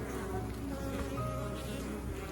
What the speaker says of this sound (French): quand on vous dit que les abeilles sont agressives, c'est pas vrai